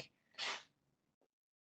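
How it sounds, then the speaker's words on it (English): A house cat gives a single short, sharp sneeze close by in a quiet room, followed by a faint small sound and silence. "cat just sneezed"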